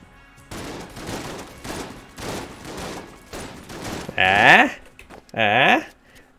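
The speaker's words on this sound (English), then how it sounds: "Now it shoots shells and guns." A gun firing shells in the video game Enter the Gungeon lets off a rapid run of loud, evenly spaced shot bursts, followed by two short, bright, sweeping tonal effects.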